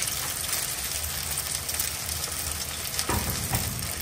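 Fish frying in a pan in a home kitchen, with a steady close sizzle and crackle of hot oil running throughout and a brief louder spatter near the end.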